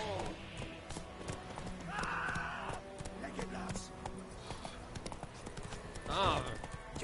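Roach the horse gallops in The Witcher 3, its hooves pounding out a quick, rhythmic clip-clop at close range. A voice talks over the hoofbeats throughout.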